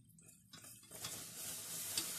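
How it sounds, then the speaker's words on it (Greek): Six tablespoons of corn flour being stirred into melted butter in a pan: a quiet start, then from about half a second a soft, continuous scraping and gentle sizzle that builds slightly and carries on to the end. "Ανακατεύουμε."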